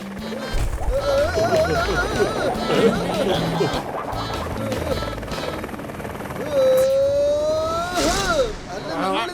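A cartoon helicopter whirs steadily behind animated character voices. Duck-like quacks and squeaky tonal sound effects are layered over a busy soundtrack.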